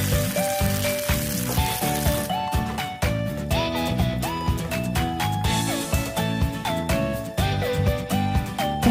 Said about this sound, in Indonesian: Kita goreng bumbu-bumbu yang akan dihaluskan sampai harum dan